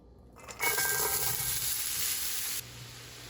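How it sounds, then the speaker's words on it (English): Vegetable scraps hit a hot pan and sauté with a sudden loud hiss that holds steady for about two seconds, then drops back to a quiet background. "So these are gonna get sauteed for just a few minutes until they're soft"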